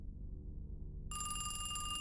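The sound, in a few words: telephone on the wall ringing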